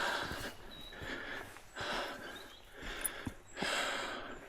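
Heavy, labored breathing after a steep walking climb in Dovedale, in repeated breathy pulses, close to the ear, panting steadily with no talking.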